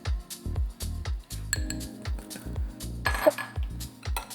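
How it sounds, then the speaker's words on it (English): Seafood, capers and dressing for a Greek cold seafood salad tossed together in a bowl, with rhythmic close clinks and scrapes of a utensil against the bowl repeating about twice a second. "We'll mix this together."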